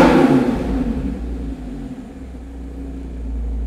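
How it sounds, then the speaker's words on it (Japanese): Audi R8 Spyder 5.2 FSI V10, a 2013 late model fitted with a Power Craft variable valve exhaust, revs once loudly nearby and then settles into a deep, steady rumbling idle. "少しアクセルを踏んでみます。"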